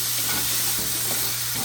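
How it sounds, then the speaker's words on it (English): Steak frying in a pan while being stirred, a loud continuous sizzle and hiss with faint scraping movements underneath, lasting under two seconds. "Just continue to stir your steak until it's fully cooked."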